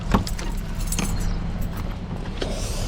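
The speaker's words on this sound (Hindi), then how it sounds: "चलो भाई, गाड़ी हमारी स्टार्ट है, एसी चल रहा है।" A car's engine idles steadily with the air conditioning running, a constant low rumble filling the cabin, broken by a few brief jangling clicks like keys or interior handling.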